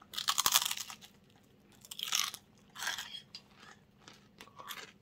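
Crisp bites into toasted Spanish glass bread (pan de cristal) give four sharp, close crunches spaced about a second apart, alone without talk.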